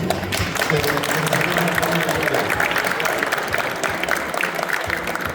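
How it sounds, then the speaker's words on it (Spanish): Audience applause for guest speakers at a talk on vermouth, a dense, steady wash of clapping lasting throughout with some crowd murmur mixed in, fairly loud and close. "les pido un aplauso de vuelta para ellos"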